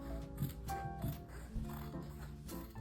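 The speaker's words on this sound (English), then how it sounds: "First, you will start by simply just cutting the inseam all the way through." Scissors cutting through the inseam of a pair of jeans, giving a series of dull mechanical snips and clicks at a steady working rhythm, fairly quiet and close, with no talking.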